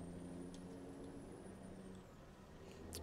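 Heavy truck hauling a low loader in Farming Simulator 17 on the Black Mountain, Montana map, a steady low engine drone with a faint high whine and a brief air-brake hiss at the end.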